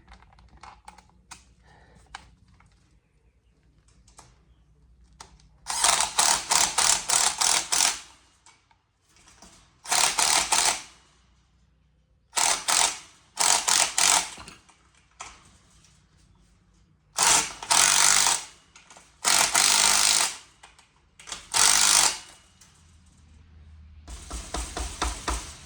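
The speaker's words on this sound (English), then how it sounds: "I'm using an impact to drive it home" Impact driver tightening lock nuts on a budget sheep tractor build, several loud close bursts of rapid rattling hammering separated by quiet pauses with light handling noises.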